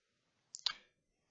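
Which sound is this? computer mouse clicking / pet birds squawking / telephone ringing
computer mouse clicking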